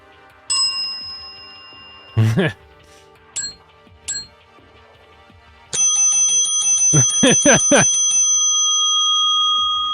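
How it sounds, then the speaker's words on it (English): Several bright metallic dings from a desk bell sound effect, with long ringing tails, some single strikes and a quick run of repeated rings near the end. "I want like a more of like a desk bell"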